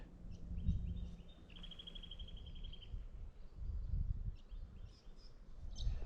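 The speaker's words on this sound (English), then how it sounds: "And bird sounds." Outdoor ambience in Kalbarri, Western Australia, with scattered bird chirps and a sustained high trill, set against a low rumbling background; no one speaks.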